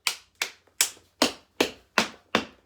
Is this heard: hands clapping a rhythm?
yes